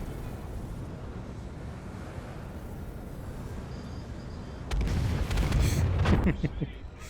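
Several missiles launch at once in the Star Citizen space combat game, a sudden loud burst of rumbling blasts rising over steady engine hum and continuing for a couple of seconds.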